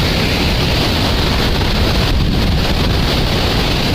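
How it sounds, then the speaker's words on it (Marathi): Water pouring down over a dam weir at Khandgaon, a loud, steady, broadband rushing roar with no pauses and no voices. "या साईडला पाणी खाली चाललं आहे."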